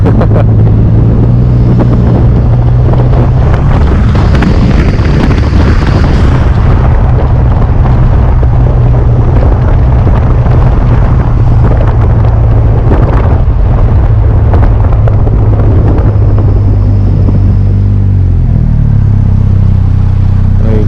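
A Rewaco trike with a 1500cc turbo engine and automatic transmission rumbles steadily nearby with a loud, continuous exhaust drone, its pitch shifting slightly as it revs and settles, with no talking.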